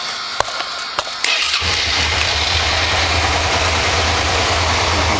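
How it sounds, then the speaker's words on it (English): A motorcycle engine cranks with a few sharp clicks and then catches, settling into a loud, steady, close idle rumble that runs to the end with no talk. "So let's go ahead and start the bike up."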